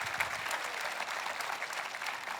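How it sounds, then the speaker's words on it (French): A church congregation at a Christmas service applauds together, a steady, fairly distant wash of many hands clapping with no speech over it. "Voulez-vous applaudir avec moi, s'il vous plaît?"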